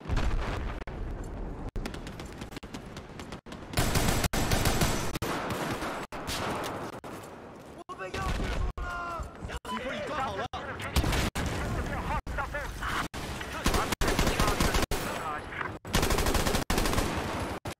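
Dense gunfire from a first-person shooter video game, rapid automatic bursts and single shots with booming impacts, loud and continuous with only short gaps.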